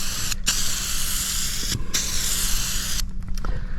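Rustoleum silver metallic spray paint can spraying in steady close hissing bursts, broken by two short pauses and a final sputtering release.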